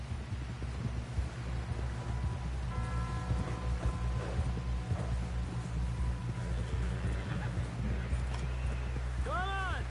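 Horse hooves clip-clop steadily in a Wild West video game, a continuous rhythmic trot under a constant engine-like rumble, with voices talking over it and a brief whinny-like call near the end.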